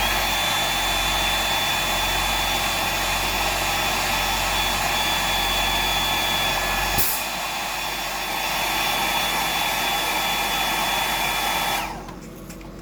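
A hair dryer blows steadily on wet paint on a freshwater fishing lure, a loud continuous whirring hum that shifts pitch slightly midway and cuts off near the end, with no talking.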